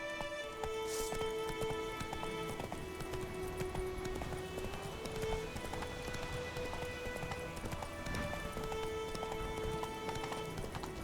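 Roach, the horse in The Witcher 3, galloping: a steady, rhythmic clip-clop of hooves running throughout, close and clear over a game soundscape with faint tonal music.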